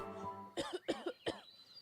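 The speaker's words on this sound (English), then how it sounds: "Instead, you find yourself coughing. A dry, hacking cough so loud it takes you by surprise." A dry, hacking cough rings out in three sharp, loud bursts in quick succession, close and alone with no talk around it.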